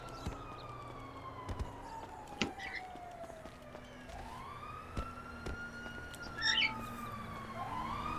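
A police siren wails and sweeps up and down during a chase in GTA Online, fairly faint and distant. Sharp knocks and bumps from the game scatter across the clip.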